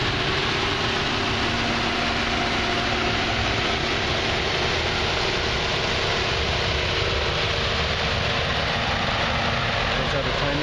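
A 2011 Chevy Cruze Eco with a 1.4-litre turbocharged engine idles under the open hood, a steady continuous low hum and whir running unchanged and fairly loud the whole time.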